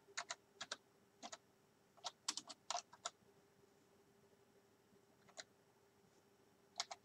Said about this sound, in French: voilà, on tape